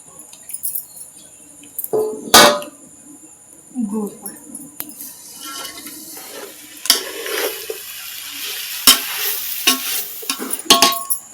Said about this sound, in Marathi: ह्या सगळा गोळा होईपर्यंत ढवळत रवायचा ढवळत रवायचा